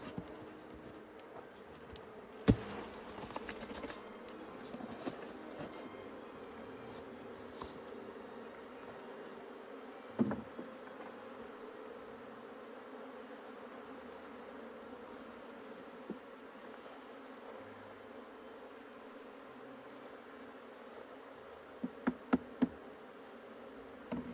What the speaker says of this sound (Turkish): Şimdi arılarımızın hepsini şuraya silkeleyeceğiz.